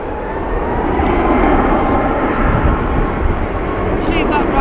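A Ryanair airliner at Manchester Airport gives a steady, loud engine roar that holds evenly throughout, with a voice faintly audible beneath it.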